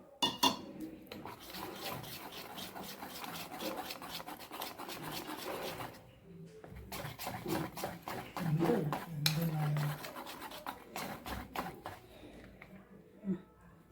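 Crushed biscuits mixed with milk in a bowl for biscuit cake, with continuous close scraping and clinking of a utensil against the bowl in steady strokes and brief pauses, while a person talks in places.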